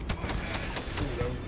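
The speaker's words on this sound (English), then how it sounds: "There's a lot more people shooting at me than I cared to like." Rapid video-game gunfire crackles in quick, evenly spaced bursts, loud and close, mixed with a low rumble of battle noise.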